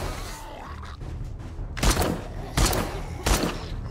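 Bursts of gunfire in the zombie survival game 7 Days to Die, three loud, evenly spaced shots or short volleys after a quieter opening, close and punchy with no speech.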